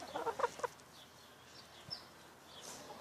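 A chicken at feeding time gives a few quick soft clucks early on, close but quiet, then the farmyard falls mostly still apart from faint background sounds.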